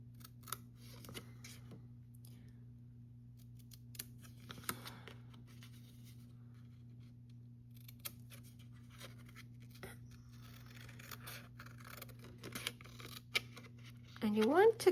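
Scissors snipping out a small section of card for a handmade shutter card, soft scattered cuts and paper rustles over a faint steady hum, quiet and close, with a brief louder scrape at the end.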